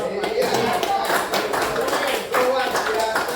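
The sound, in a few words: clapping hands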